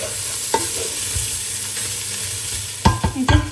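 Minced meat sautéing and being stirred in a pan, a constant low sizzle with scattered spoon scrapes and clatters that get busier toward the end, close and with no talking.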